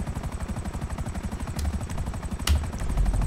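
A helicopter in the video game GTA 5 Online gives off a rapid, steady rotor chop, with two sharp bursts cutting through near the middle and the end.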